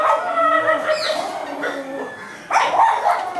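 Several dogs bark and yip at an animal shelter in India, a mix of nearby and more distant barks with whimpering tones, overlapping in uneven bursts with a louder cluster near the end.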